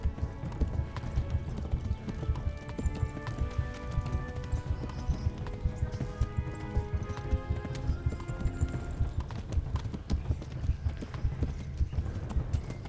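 Horse hooves clip-clop in steady rapid galloping rhythm in a medieval video game, loud and continuous, with an occasional neigh and busy game sounds around it, no talk.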